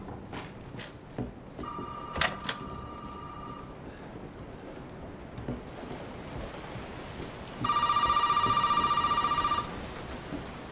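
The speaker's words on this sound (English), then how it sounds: "That is totally normal for the phone to ring." An old-style telephone rings inside a house in the horror video game Resident Evil 7. Two clear bell rings sound against a dim, rainy ambient backdrop, with no talking.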